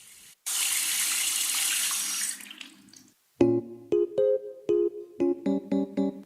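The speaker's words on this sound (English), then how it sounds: "Can you turn off the water tap first when you want to talk?" A water tap runs in a steady, close rushing stream for about two seconds and then shuts off, followed by a few short tonal knocks in a broken rhythm.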